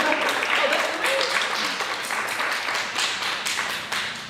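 Audience applause at a local community broadcast honoring a Florida Boxing Hall of Famer, a dense, steady patter of many hands clapping close by that fades slightly toward the end.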